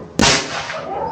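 An air rifle with an MK barrel fires a slug, a single sharp crack that rings out with a short fading tail, close and loud.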